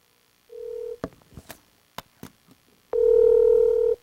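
A telephone line tone sounds while a call is being connected: a short steady electronic tone, a few clicks and taps, then a longer loud sustained tone at the end.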